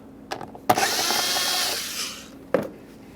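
A power driver loosens an 8mm-headed hose clamp on the air inlet tube of a 2011-2021 Jeep Grand Cherokee: a close, whirring run of about a second and a half, framed by sharp clicks and knocks.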